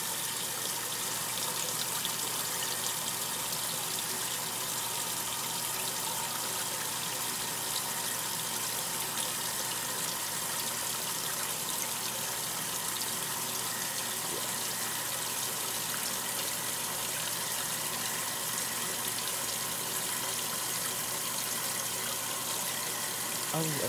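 Water running steadily into a 1960s Kenmore washing machine, a constant rushing gush with a faint hum behind it, unbroken for the whole stretch.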